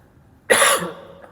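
A single sharp, loud cough close to the microphone, bursting out after quiet and trailing off quickly.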